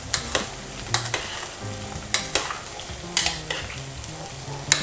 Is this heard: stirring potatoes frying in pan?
yes